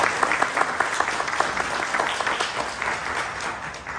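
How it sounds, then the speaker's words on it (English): An audience applauds a speaker at a gathering honoring seniors, dense steady clapping from a crowd that carries evenly throughout, with no voices over it. "Another round of applause"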